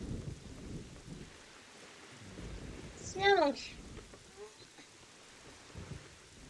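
Rain and thunder ambience in the video game Wind Waker, a low steady rumble of rainfall with a swell of thunder midway, while a character voice speaks briefly over it.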